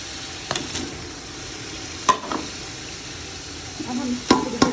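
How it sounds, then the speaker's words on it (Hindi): Beef pulao masala with tomato, salt, chili, cumin and black pepper frying in a pot, a constant low sizzle punctuated by a few sharp knocks and scrapes of a spoon stirring. "अब हम इसको थोड़ी देर के लिए भून देंगे"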